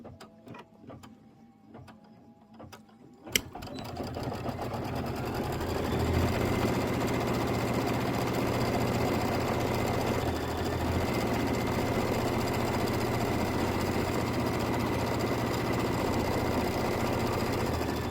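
Embroidery sewing machine stitching a quilt filler block: a few quiet clicks, a sharp start, then a loud, steady rapid mechanical hum and needle chatter running without pause.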